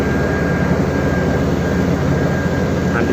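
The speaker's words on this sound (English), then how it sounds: "So this is the big engine that ensures the tractor ahead cannot stall." The big assisting engine of a cane-hauling tractor rig drones in a loud, steady, low rumble with a constant broadband roar and no change in pace or pitch.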